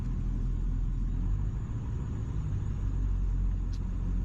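A 450hp OBS Ford truck idles on a tune for 205cc injectors, giving a steady, low, rumbling engine drone that stays even and continuous throughout.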